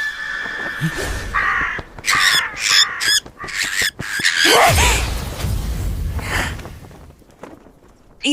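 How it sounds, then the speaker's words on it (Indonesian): A zombie bird in an animated series gives harsh, rasping caws in a burst of several calls, mixed with squeals, thuds and a low rumble, loud and close. "Itu burung zombie."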